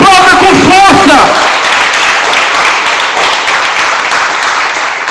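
Loud applause from a church congregation fills the space after a brief burst of voice at the start, a dense, steady wash of clapping that carries on throughout.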